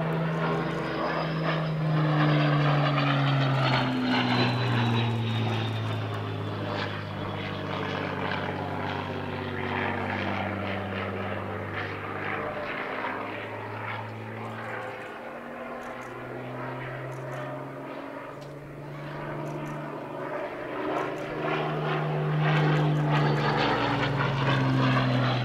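A historic propeller warplane flies past at Southport Airshow, its engine droning loud and steady throughout with a rising and falling pitch as it passes.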